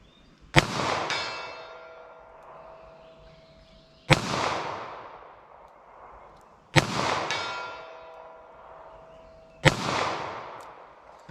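Four loud, sharp .38 Special revolver shots fired at a target, each about three seconds apart, with a crack and a short ringing decay after each one.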